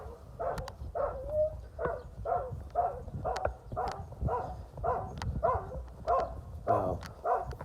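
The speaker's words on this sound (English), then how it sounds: "Oh, there's a dog barking now." Dog barking outdoors during a homestay walk around at Pulag, a series of about a dozen evenly spaced barks at middle distance, moderately loud, with no talk over them.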